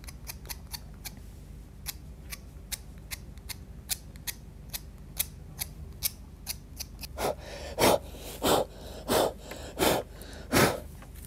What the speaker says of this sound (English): I'm actually going to start scraping onto that wet area.